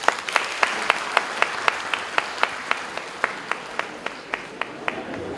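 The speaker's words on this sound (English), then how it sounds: "So please give a huge round of applause for Ms." Rhythmic, unison clapping from a conference audience at an inaugural session, steady evenly spaced claps ringing out in a reverberant hall for several seconds, moderately loud with no talk over it.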